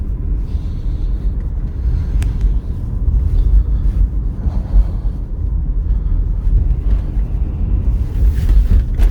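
Low, rumbling engine and road noise from a 2007 Honda CR-V in motion, steady and fairly loud, with some wind buffeting.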